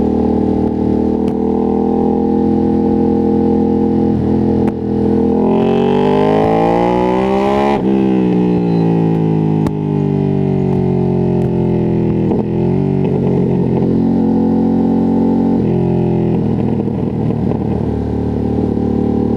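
Ducati Streetfighter V2S twin-cylinder engine under way on the road, loud and close, with rising revs through the gears, a shift, then steady cruising and rolling throttle changes throughout.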